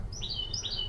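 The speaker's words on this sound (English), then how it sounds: "sorry about the birds" Small birds chirp and tweet outdoors in quick, bright bursts that repeat over and over against a low background rumble, with no talking.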